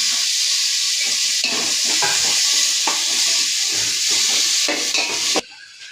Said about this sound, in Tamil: தக்காளி, இஞ்சி பூண்டு எல்லாத்தையும் போட்டு வதக்கணும்